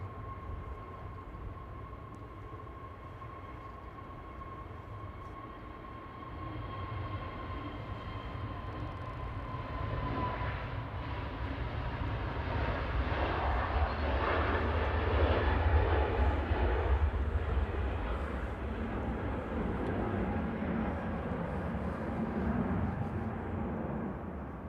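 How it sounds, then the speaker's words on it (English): An easyJet Airbus A320neo starts its takeoff roll at Manchester, opening with a faint steady whine. A deep engine roar then builds and peaks mid-way before easing a little, heard from a distance with no talking. "EasyJet to Lanzarote, JEB on the roll."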